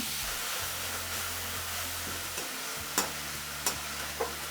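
Chopped vegetables and onions sautéing in a pan for a dish made from idli batter give a soft, constant sizzle, broken near the end by three brief stirring clicks.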